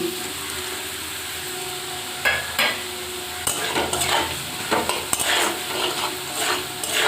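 Spices being stirred into fried carrot in a pan before soaked mung dal goes in: a steady sizzle runs underneath while a spoon scrapes and clinks against the pan in uneven, close strokes.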